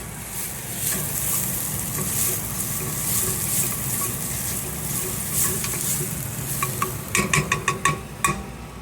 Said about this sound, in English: Now it's time to stir my onions and celery again.